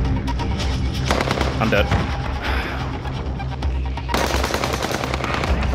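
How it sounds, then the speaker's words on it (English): Rapid automatic gunfire in the Warzone battle royale game, dense bursts of shots rattling near and loud almost nonstop, with a louder burst near the end, while a player talks over it. "Shots fired up top."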